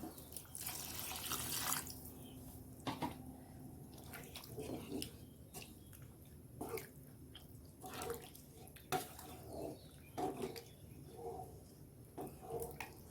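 Water poured from a tap into a pot of egg curry with potatoes, a faint running splash interrupted by short clinks and knocks of kitchenware.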